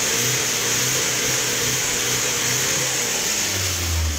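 Car engine revving after an Aero Metal Guard oil treatment, a steady close engine note rising in pitch toward the end over broadband hiss, with no talk.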